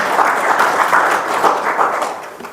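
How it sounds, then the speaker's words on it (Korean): Church congregation applauding during a Sunday afternoon worship service: a steady, dense wash of many hands clapping together, loud and close, holding for the whole stretch before easing slightly at the end. "박수 쳐도 됩니까?"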